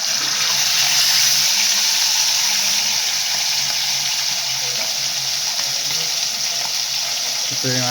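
Milkfish (bangus) fries in a pan with a loud, steady hiss of sizzling oil that holds evenly from start to finish, with no talk over it.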